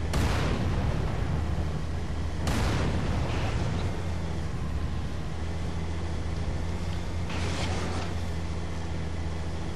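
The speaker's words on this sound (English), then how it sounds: "get back to your tank. And then shoot the grunts and brutes here" Tank cannon in Halo 3 firing at grunts and brutes, three heavy booming blasts spaced a few seconds apart over a constant low engine rumble, with no talking.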